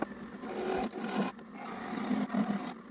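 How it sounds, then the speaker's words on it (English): A lathe parting tool squares the ends of a turned Osage orange wood mallet blank, giving a continuous close scraping rasp with a few brief dips. "And now to the bedin, or the parting tool, to square up both ends."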